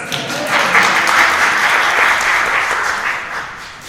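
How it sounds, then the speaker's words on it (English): Audience applause in a congregation, loud sustained clapping from many hands that swells and then slowly tapers off. "Yes, that deserves applause."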